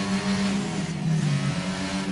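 Racing cars in a video game race in Azerbaijan run behind a safety car, with a continuous engine drone and a slight rise and fall in pitch, loud and close, with no voices.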